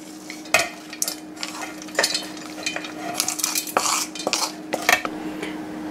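Cooled red capsicum and coconut chutney mixture being stirred and scooped into a mixer jar: repeated metal spoon scrapes and clinks against a pan, close and fairly loud, with no talking.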